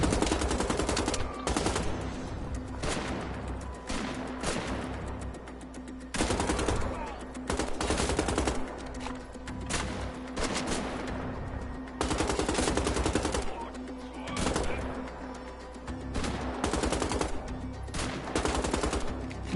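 Sustained automatic gunfire in the shooter video game Wolfenstein: The Old Blood, with loud rapid bursts repeating throughout, separated by short lulls and echoing impacts.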